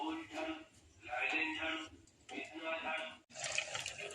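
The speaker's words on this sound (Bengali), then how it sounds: "এখন নিজে বাসন মারছি" Water runs in bursts from a tap into a sink while dishes are scrubbed and rinsed by hand, close and moderately loud, with short pauses between splashes; a voice talks over it.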